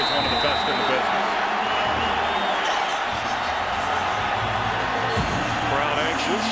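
Steady dense roar of a large football stadium crowd at an NFL game between the Rams and 49ers, waiting for a kick return, loud and continuous with faint whistles and shouts mixed in.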